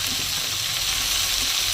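Spinach, onion, green chili and eggplant frying in a pan, giving a dense, even sizzle that stays loud and close for the whole short stretch.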